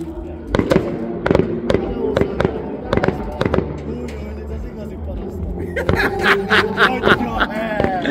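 Loud fireworks bangs and crackles burst repeatedly, some close together, with voices and laughter murmuring underneath.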